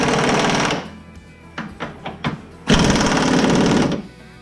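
A pneumatic impact wrench running on low air pressure tightens bolts: two long rattling hammer bursts separated by several short stuttering blips, loud and close.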